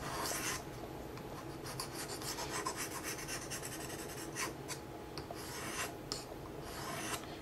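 A steel blade is stroked across an 800 grit sharpening stone, giving a continuous close scraping rasp with repeated strokes and no talking.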